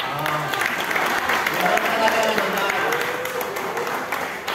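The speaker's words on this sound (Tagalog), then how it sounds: "Palakpak!" Applause from a crowd at a company year-end Christmas party, a continuous patter of clapping with voices mixed in, moderately loud and steady throughout.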